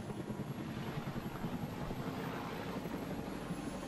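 Helicopter flying in the ArmA II combat game, a steady whirring rotor and engine drone holding evenly throughout with no break, moderately loud and unaccompanied by voices.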